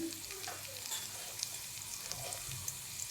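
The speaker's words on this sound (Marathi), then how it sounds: "जिरे मोहरी टाकले थोडासा हिंग टाकते आता मी" Cumin, mustard seeds and asafoetida sizzle and crackle in hot oil, a steady close-up frying hiss with scattered pops throughout, no talking.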